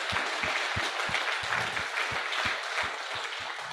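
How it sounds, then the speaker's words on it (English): Audience applause at an annual general meeting, dense steady clapping from a room of members with no talk over it, sustained at an even level throughout. "Let's give her a round of applause."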